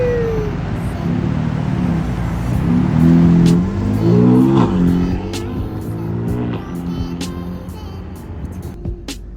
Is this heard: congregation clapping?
no